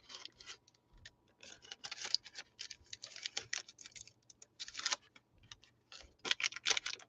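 Sheets of wax paper being handled up close among craft scraps and journals, giving irregular bursts of dry crinkling and rustling with brief pauses, no talk.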